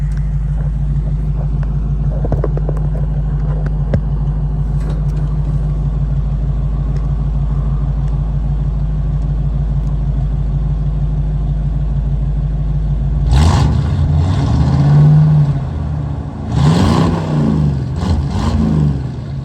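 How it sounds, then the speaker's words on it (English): A 1976 Chrysler Cordoba idles with a steady low rumble for several seconds, then the engine revs up loudly in a couple of surging bursts before settling back, heard close with no talking. "Let's see if we can get a video of this thing revving up."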